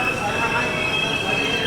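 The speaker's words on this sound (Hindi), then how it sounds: "चलो भाई साहब, लगभग 7 मिनट रुकने के बाद अपनी ट्रेन निकल रही है रेनीगुंटा" The Mumbai Chennai Express pulls out of Renigunta junction with a continuous metallic wheel squeal, a thin high whine riding over dense, steady rumbling rail noise up close.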